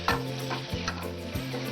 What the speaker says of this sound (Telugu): ఆ వేడికి ఇది బాగా ఫ్రై అయిపోతుంది.